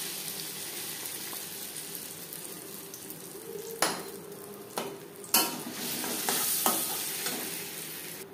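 Lentil paste filling for hing kachori is fried and stirred in a pan over a low gas flame, with a steady sizzle and occasional scrapes and clinks of the utensil.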